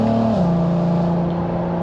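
An Audi TT 3.2 with DSG gearbox pulls hard under acceleration, engine note dropping abruptly as a quick paddle upshift goes through, then building again; loud, close, steady interior drone.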